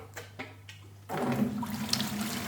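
Seawater drains from a 120-litre marine reef aquarium through a siphon hose into a bucket, a steady rushing gush that surges in loudly after a second of quieter dripping and trickling.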